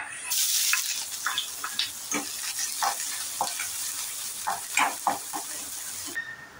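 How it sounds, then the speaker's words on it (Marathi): Onion tipped into reused frying oil, a loud bright sizzle bursting in at once and crackling steadily with scattered stirring scrapes, then cutting off near the end. "आता टाकूया कांदा।"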